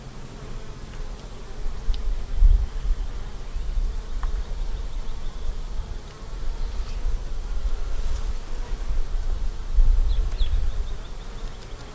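Honeybees buzzing around an opened brood box frame with hatching bees, a steady dense hum with louder swells as the insects move close, no talk.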